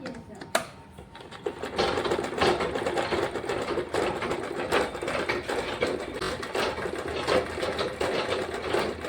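A sewing machine runs in steady bursts of rapid mechanical stitching while a long frock coat is sewn, close and fairly loud, with brief pauses between runs and no talk.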